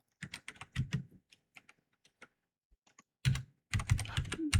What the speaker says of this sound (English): Trying to get better at touch typing.